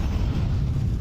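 A grenade blast in Counter-Strike at IEM Krakow booms low and heavy, a dense, loud rumble filling the short moment without speech.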